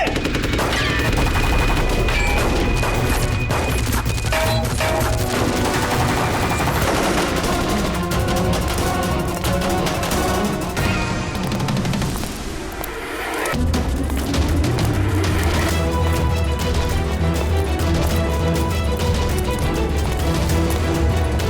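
Heavy gunfire in the Hindi police crime TV serial CID: dense, continuous bursts of shots and booms fill the scene loudly, layered with dramatic music, with a brief lull before the firing resumes.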